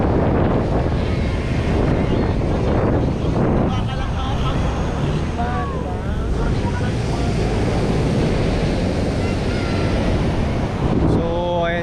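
Strong wind roars and buffets the microphone continuously, with faint voices underneath the rushing noise.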